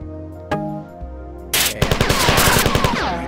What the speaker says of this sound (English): that's me shooting a compiler